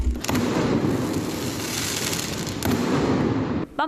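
Fireworks set off at 4 a.m. near a residential community in Taiwan: dense, loud crackling bursts in two rapid volleys that nearly fill the moment, then a brief pause.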